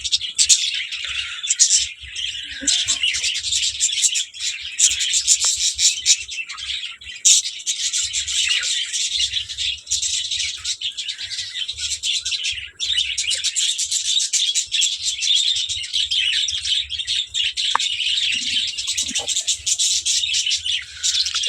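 Many small pet birds chirp and squawk continuously at close range while feeding, a busy chatter of calls with occasional soft fluttering and low rustling.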